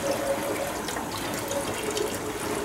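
Filtered water runs steadily from a kitchen tap, a continuous close hiss and splash that holds even from start to finish with no talking.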